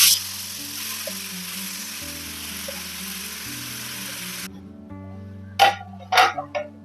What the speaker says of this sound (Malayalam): ഓയിൽ ചൂടായി കഴിയുമ്പോൾ കുറച്ച് കടുക്, നമുക്കിതെല്ലാം കൂടെ അങ്ങോട്ട് ഇട്ട് കൊടുക്കാം